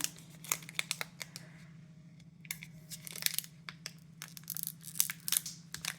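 Foil trading card booster pack being torn open by hand, a run of sharp crinkling rips and crackles close up, bursts coming in uneven clusters with brief pauses, no voices.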